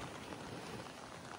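Rain falls steadily on Boracay Island, making a soft, even hiss with no distinct drops or voices.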